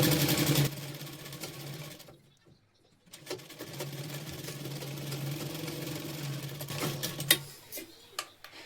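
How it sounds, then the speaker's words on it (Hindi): Sewing machine stitching blouse fabric with a half-inch seam allowance, a soft, close whirring run that stops for about a second and then resumes, with a few faint clicks near the end. "आधा इंच का दाब लेते हुए हम सिलाई लगा रहे हैं।"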